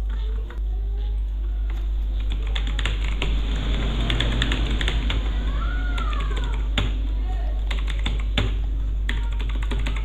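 Fingers tap a computer keyboard entering address details into an online PAN card form, scattered clicks and short quick runs of keystrokes over a steady low hum.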